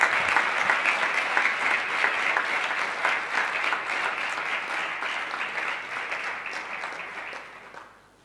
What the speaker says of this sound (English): Let us again have a round of applause